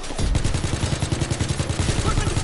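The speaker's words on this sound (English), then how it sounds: "Oh, I'm shooting another one." Rapid bursts of automatic gunfire from the World War II shooter game Call of Duty WW2, loud, close and rhythmic, with a steady rattling cadence running throughout.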